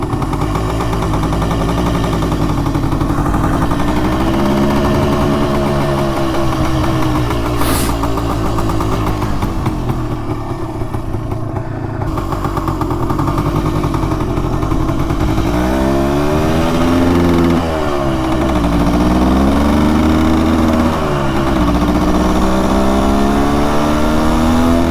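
A 400cc two-stroke motorcycle runs loud and close for the whole stretch, its engine rising and falling through repeated revs with a harsh, rapid exhaust crackle and no talking.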